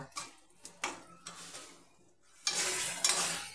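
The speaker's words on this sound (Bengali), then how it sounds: "এবার আমি মশলাটাকে 1 মিনিট কষিয়ে নেব।" Spice paste fried and stirred in a pan for an egg and lentil bora curry: several scraping stirs and clinks, then a steady close sizzle rising in the last second, with no talk.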